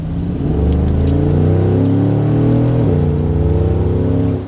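Mercedes G63 SUV with a twin-turbo V8 accelerating on the road, a loud, close, deep engine roar that climbs steadily in pitch, briefly dips at a gear change, then pulls on and eases off.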